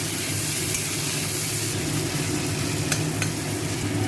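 Tomato and garam masala powder sizzle steadily in leftover fish-frying oil while spices are stirred, a loud, even hiss with a few sharper scraping ticks and no voices.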